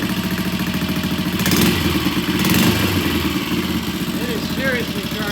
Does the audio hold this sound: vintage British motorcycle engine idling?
yes